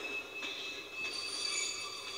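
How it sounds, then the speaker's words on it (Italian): A train in the video game Kingdom Hearts 2 gives off a quiet, steady rolling hum with a thin, high wheel squeal running throughout. "Ecco il treno che avevamo visto prima nella proiezione"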